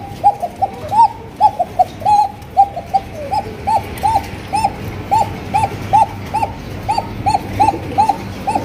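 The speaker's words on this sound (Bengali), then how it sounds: "মাদি ধরলে মনে করেন নট ডাকা শুরু হয়ে গেছে।" A male pigeon coos repeatedly near a female, loud and close, with a rhythmic run of short rising-falling calls, one after another, over a faint low background murmur.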